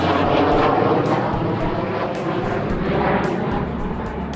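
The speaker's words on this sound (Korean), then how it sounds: "계속 비행기가 날아다니는데 조금 시끄럽긴 하네요." A military jet passes over near an airfield, its loud, sustained roar rising and falling slightly while a faint rhythmic ticking sounds through it.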